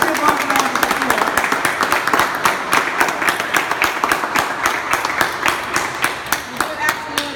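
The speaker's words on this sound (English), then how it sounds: "let's give her a round of applause" Steady, sustained applause from a crowd at a press conference, dense clapping continuing evenly for several seconds.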